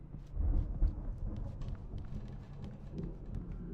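Thunderstorm in the game Alan Wake: a deep rolling rumble of thunder swells early and fades into a steady low roar with light rain crackle, no voices present.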